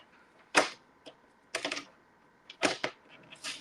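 A paper trimmer with a worn blade slices the edge off a sheet of paper in a few quick, close bursts of crisp clicking and rasping, separated by short quiet gaps, with no talking.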